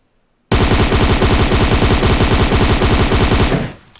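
An M762 Beryl assault rifle fitted with a flash hider and light grip fires one long, loud, continuous full-auto burst of rapid even shots in a shooting video game, stopping sharply after about three seconds.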